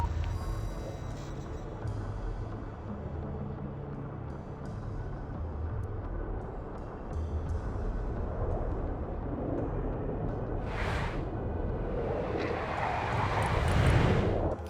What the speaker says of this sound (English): Send the plane back to base before it runs out of fuel.